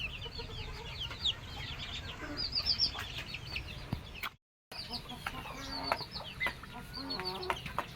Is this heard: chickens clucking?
yes